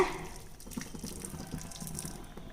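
Boiling hot water pours into semolina for Rangoon puttu, a soft, close splashing trickle with uneven liquid patter that runs continuously at low volume.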